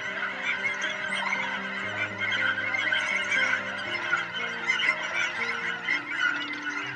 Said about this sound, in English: There are thousands of snow geese